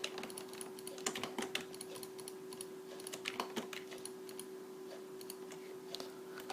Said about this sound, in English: I apologize if you can hear my keyboard if my keyboard is very loud